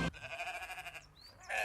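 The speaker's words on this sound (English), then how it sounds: "what does the sheep sound like actually?" A single sheep gives a quavering, pulsing bleat lasting about a second, close and clear, framed by brief louder sounds at the start and end.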